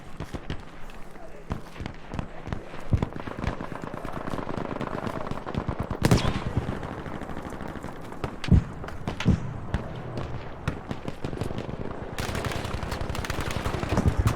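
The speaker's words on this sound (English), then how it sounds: "A lot of gunfire going on." Rapid bursts of Battlefield 5 gunfire, crackling and dense, with sharper individual shots standing out and faint footsteps beneath.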